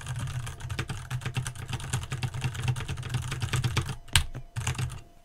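Rapid clicking keystrokes on a computer keyboard, picked up by a desk USB microphone, run continuously and fairly close with no talking, pausing briefly near the end before resuming.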